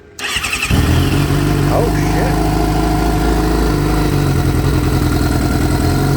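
An engine freshly swapped into a car cranks briefly, then fires and settles into a loud, steady, close idle, with one short exclamation near the start.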